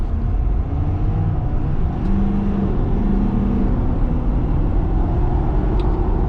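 A 2022 Ford Super Duty truck accelerates from a green light, its engine a steady low rumble heard from inside the cab, rising gently and holding loud and even throughout with no speech.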